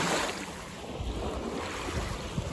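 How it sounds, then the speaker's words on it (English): Waves wash in on an island shore, a soft, steady surf rush with low rumbling swells, fairly faint and continuous with no voices. "we got waves coming in"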